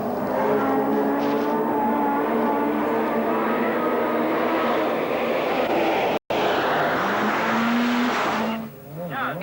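A Ford RS200 rally car, suffering some handling problems, races through a stage of the 1986 Swedish Rally. Its engine roars loud and close throughout, pitch rising and falling with the throttle, with one brief cut and a fade near the end.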